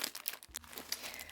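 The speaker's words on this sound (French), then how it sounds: "Comme ça, on aura moins de bruit de papier." Close, soft crinkling of paper in short irregular bursts, with a few light crunches.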